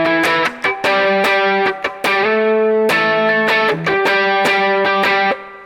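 An electric guitar plays a short, aggressive alt-rock solo melody through heavy distortion, loud and close, with quick picked notes, held bends and brief gaps between phrases, and no voice over it.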